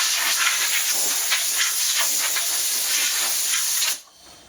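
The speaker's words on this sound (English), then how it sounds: "one of the best things about an air compressor is being able to do this." Steady broadband hiss of compressed air blasting from a RocwooD 50L silent air compressor's blow gun, loud and continuous for about four seconds, then cutting off abruptly.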